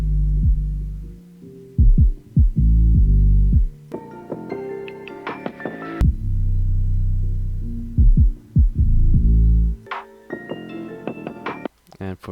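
Deep booming 808 bass notes hit and glide in a hip-hop beat, with sharper percussive hits and melodic stabs above, loud and close, with no voices.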